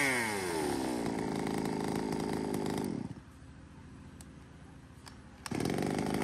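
An Echo Kioritz V3007 chainsaw engine runs loud and close, revving at a high steady pitch for three seconds, dropping to a low idle, then revving up again.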